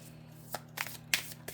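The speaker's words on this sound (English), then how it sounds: "I have never seen that many tarot readers who shuffle that way." Tarot cards being shuffled by hand, a few quick riffling bursts at moderate volume separated by short pauses, with no talking.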